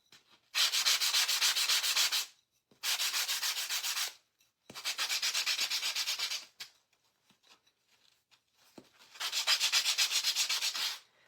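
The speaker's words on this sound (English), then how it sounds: "Go ahead and sand these. And this is 120 grit sandpaper sponges." Wooden Halloween shelf sitters sanded by hand with 120 grit sandpaper sponges: four long, steady rasping strokes, each lasting one to two seconds, separated by short pauses, close and clear with no talking.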